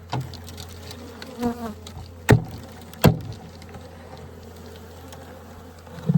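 Bees swarm around a desert tortoise den hive, a steady insect buzz with a low hum, broken by a few sharp clicks and thumps.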